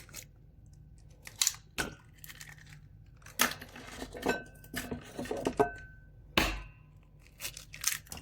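Three eggs cracked one by one into a bowl for a lemon cake, with sharp taps and clinks against the rim amid scattered kitchen handling noises, close and fairly quiet.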